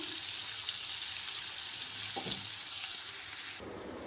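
Ridge gourd peel sautéing in a pan gives a steady close sizzle with faint stirring scrapes, continuous throughout and dropping slightly toward the end.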